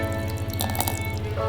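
Thirty grams of water poured onto a sourdough starter in a container, giving a short, soft splashing and dripping trickle over a steady low background hum.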